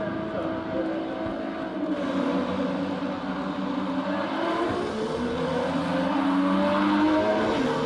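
Porsche Cayman race car engine in the RaceRoom racing video game at a Swedish track, droning and shifting pitch as it accelerates, steady and fairly loud, with no talking over it.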